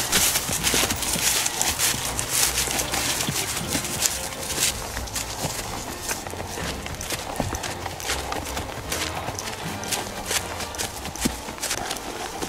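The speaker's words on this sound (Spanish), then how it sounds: "ahí vamos, caballos, vamos buscando los toros" Horses moving through a rural cattle ranch at a bull event in Tierralta, their hooves clip-clopping in a brisk irregular rhythm over a steady outdoor background.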